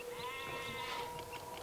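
Sheep bleating in the city-building game Zeus, a single sustained, wavering bleat heard close and fairly quiet over a soft game background, with no voices.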